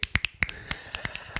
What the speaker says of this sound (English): Snap claps.